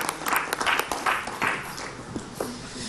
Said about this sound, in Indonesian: tepuk tangan dulu dong buat Peggy